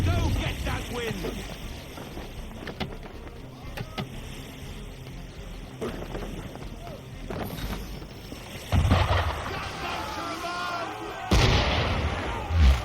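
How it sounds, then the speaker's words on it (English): Cannon fire from an enemy ship during a naval battle in Assassin's Creed III, heavy booms landing around 9 and 11 seconds over a constant bed of wind, sea and creaking rigging, with voices talking. "Why is he shooting at us?"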